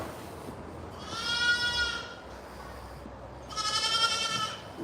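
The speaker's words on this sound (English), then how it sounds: "Goats are swinging away in their swings here, quite happy" Golden Guernsey goats on a farm give two loud, wavering bleats a couple of seconds apart, nearby, over faint background noise with no talk.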